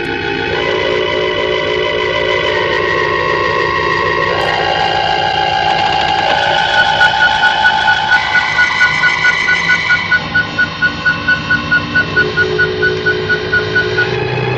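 A moon tractor's engine runs in a 1967 British puppet TV series, a loud continuous mechanical drone with layered sustained tones and a rapid rhythmic pulsing beat in the second half.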